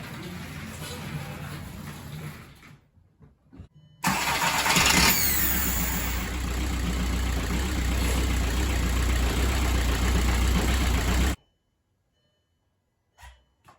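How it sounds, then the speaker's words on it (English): A 2004 VW Golf TDI diesel engine after a starter replacement: a few faint clicks, then the starter cranks and the engine catches with a loud burst, running steadily for about seven seconds before cutting off abruptly. "The starter sounded kind of funny."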